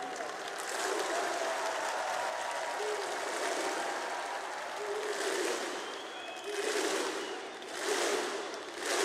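An esports arena crowd at a Counter-Strike: Global Offensive major playoff match in Krakow applauds and cheers, a sustained, fairly distant wash of clapping that swells in waves.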